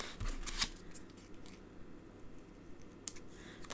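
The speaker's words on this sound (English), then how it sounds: "I'm gonna just cut that little stem off." Scissors snip a small stem off a piece of paper card on a crafting table. Two brief, faint, crisp cuts stand out against a quiet background of light rustling.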